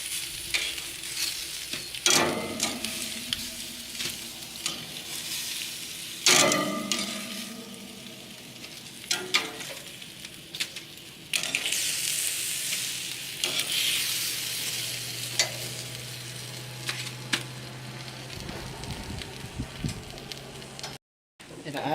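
Lamb lollipops sizzle on a grill in a soft, steady fry, with scattered clicks and scrapes on top and a low hum late on.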